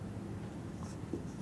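Chalk or pen scratching out writing on a board or paper during a maths lesson, a soft continuous scraping close by with no talk over it.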